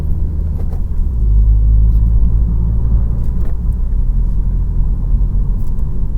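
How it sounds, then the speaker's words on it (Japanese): Manual-transmission car engine revving up to around 3000 rpm and shifting up through the gears, a steady low rumble that swells and eases with each change, heard from inside the cabin with no talking. "ちょっと極端に3000まで上げちゃいましたけど"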